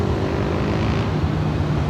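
Steady, loud roar of an airliner on final approach to land at LAX, a continuous broadband jet rumble with a faint tonal whine, heard alone without voices.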